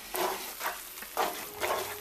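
Mushroom risotto cooks down in a pan with a soft, steady sizzle, broken by a few louder bursts of stirring spaced through the short stretch.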